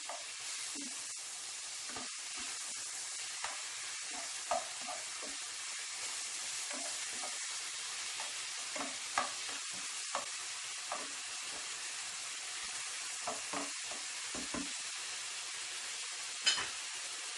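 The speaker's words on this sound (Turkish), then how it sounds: "Etimizin üzerine Yoğurdumuzu da ilave edelim ve birle kavuralım." Soft, steady sizzling from meat and yogurt frying in oil in a pot, with faint hissing and occasional scrapes of stirring, no talking.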